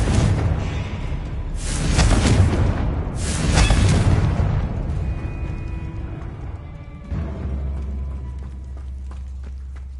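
Confringo blasting spell explosions in Hogwarts Legacy, two loud booming blasts with rushing whooshes a couple of seconds apart, followed by a lingering rumble and a lower, lighter impact near the end.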